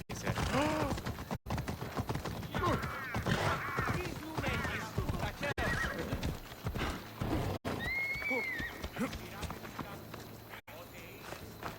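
Hooves of a horse in a video game set in ancient Sparta clop steadily, with several whinnying neighs breaking through, mixed under music and other game sounds.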